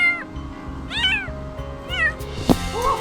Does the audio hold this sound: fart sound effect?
no